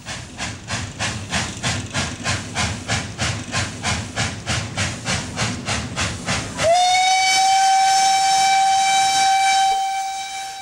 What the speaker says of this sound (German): Und zwar ist es die Lokomotive Salak, die 1916 von Ohrenstein und Koppel gebaut wurde.